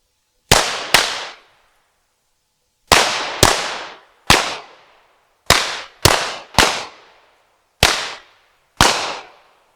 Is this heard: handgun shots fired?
yes